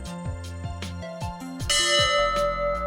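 A memorial church bell honouring Royal National Lifeboat Institution crews rings several times in a steady rhythm, each strike clanging loudly and hanging in a ringing hum, with the tones overlapping toward the end.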